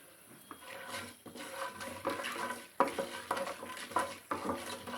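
Chana dal and urad dal fry in oil as a tempering for an amaranth-leaf tomato curry, with a steady crackling sizzle, close up, broken by repeated scraping stirs of a spoon in the pan.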